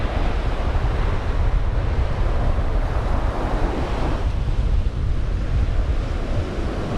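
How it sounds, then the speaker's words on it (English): Strong wind roars steadily across a Florida surf-fishing beach at New Smyrna, with the wash of breaking waves underneath as continuous loud noise. "the wind is really picking up"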